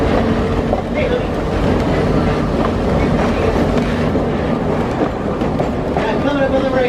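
A train at Roaring Camp rolls steadily along the rails with a continuous loud rumble and clatter that stays close and constant throughout.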